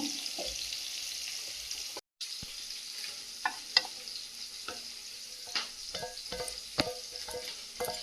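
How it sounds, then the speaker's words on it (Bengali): Leafy greens frying in a wok, a steady close sizzle with a brief cut, then scattered scraping stirs and knocks against the pan; no talking. "কড়াইটাও চাপিয়ে দেবো শাকটা ভেজে নেব"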